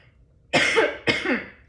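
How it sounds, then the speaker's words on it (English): Two harsh coughs in quick succession, close and fairly loud, separated by a brief pause, in an otherwise quiet room. "I'm coughing."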